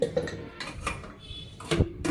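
A few short metallic clinks and clanks come from the lid of a cooled pressure cooker as it is taken off. They are close and sparse, with quiet gaps between them.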